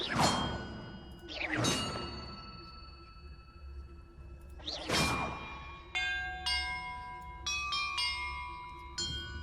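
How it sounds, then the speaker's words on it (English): Puzzle bells in Hogwarts Legacy rung one after another, several bright ringing tones with whooshing swells, later a quick sequence of clear chimes that sustain and overlap. "Perhaps the map contains clues about the order I'm supposed to ring the bells in."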